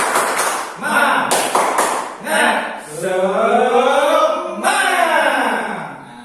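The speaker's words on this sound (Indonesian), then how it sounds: "Ya, 1, 2, 3, tepuk semangat." A classroom group performs a rhythmic spirit clap, with several sharp, loud clap bursts up front, then voices chanting together in a drawn-out, sing-song call.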